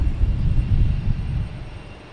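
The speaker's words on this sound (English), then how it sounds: "Got JetBlue here heading to Detroit." At Boston Logan Airport, a JetBlue airliner heading to Detroit gives off a deep, rumbling engine drone that fades toward the end, with no one speaking.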